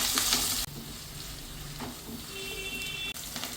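Onions with curry leaves and green chilies sauté in a pan, giving a steady loud sizzle and frying hiss. A spatula stirs and scrapes now and then, and brief drops in the sizzle mark stirring, with no talking.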